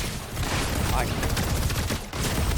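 Rapid SMG fire in a video game, sustained bursts of shots loud and continuous under a voice talking over them.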